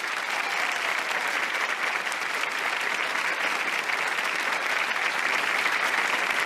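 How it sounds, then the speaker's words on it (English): A studio audience claps steadily and evenly the whole way through, a dense wash of hands with no voices rising above it. "because everybody was clapping, oohing, and on"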